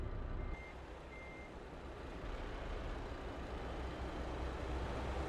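A truck reversing in Euro Truck Simulator 2, its steady engine drone and broadband rumble dominating throughout, with faint intermittent tonal beeps riding above, no voices.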